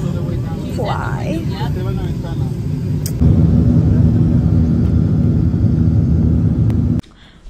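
A low, steady airliner cabin engine rumble with a voice over it at first; the drone grows louder after a sharp click and then cuts off abruptly near the end.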